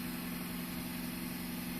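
A car engine idles steadily up close, a constant low hum with a strong even drone and no speech.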